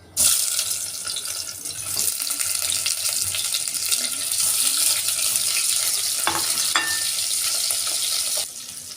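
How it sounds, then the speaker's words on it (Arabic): Beef pieces frying in hot oil: a loud, bright, continuous sizzle that flares up as the meat hits the pan and holds steady for several seconds before easing off near the end, with a few stirring scrapes. "كده خلاص الزيت سخن معايا اهو. هنزل بقى بقطع اللحمه."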